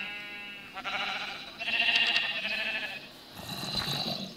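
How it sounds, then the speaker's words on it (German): Sheep in Minecraft bleat in several wavering, nasal calls, one after another, close and fairly clear, with no talking over them. "da hinten ist auch noch ein weißes Schaf"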